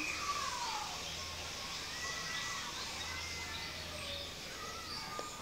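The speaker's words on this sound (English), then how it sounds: "Can you guys hear that? Those are birds." Birds chirp faintly outdoors amid a steady background hiss, scattered thin calls spread across several seconds at a distance.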